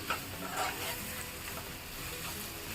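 A drumstick curry with turmeric and spices being stirred in a pan, giving a steady soft scraping and sizzling wash that holds for a few seconds, close and alone with no talking.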